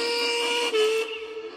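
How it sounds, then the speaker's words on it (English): A steam engine's whistle is blown loud and long as a single steady, tonal toot lasting over a second and fading slightly at the end. "This time, Duncan whistled as loud and as long as he could."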